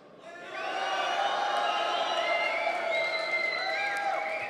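A large crowd cheers and whoops at the final of a Yu-Gi-Oh! YCS card game tournament in Milan, a loud sustained roar swelling in after half a second and holding steady with overlapping shouts.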